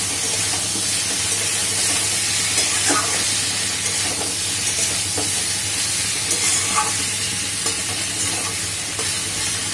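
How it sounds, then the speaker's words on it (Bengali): Constant loud sizzle of fried potatoes cooking in oily spice masala in a pan, with occasional scraping stirs over the hissing fry, close by and continuous. "আর এখন এর মধ্যে দিয়ে দেবো ভেজে রাখা আলু। আলু দিয়ে আরেকটু কষিয়ে নেব।"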